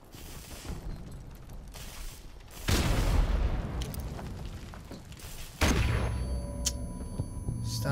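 Heavy Magnum revolver shots in an online shooter match, two sharp booming blasts a few seconds apart over a bed of rumbling game noise and scattered clatter.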